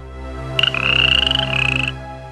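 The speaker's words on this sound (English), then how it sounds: "found herself staring at an ugly green frog." An ugly green frog in an animated children's fairy tale croaks in a rapid pulsing trill, loud and close over a low steady musical background, with no talk.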